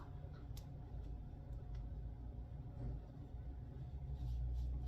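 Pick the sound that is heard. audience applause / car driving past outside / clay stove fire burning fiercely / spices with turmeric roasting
car driving past outside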